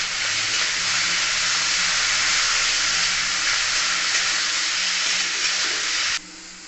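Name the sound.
potatoes frying in a pan with salt and turmeric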